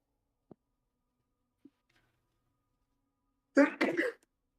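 A single short sneeze bursts out at close range near the end, after two tiny faint clicks in otherwise near silence.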